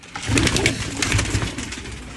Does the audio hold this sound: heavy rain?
no